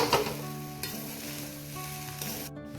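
Spiced Gujarati rice with boiled peas is stirred in a pan, a soft close scraping and light sizzle over a faint steady hum, with a brief clatter near the end.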